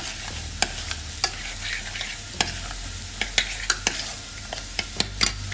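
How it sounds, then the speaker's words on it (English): Aubergines are turned over as they fry in a pan, with a constant low sizzle broken by sharp, scattered clicks and taps of a utensil against the pan, close by. "I'm going to turn over my lovely aubergines."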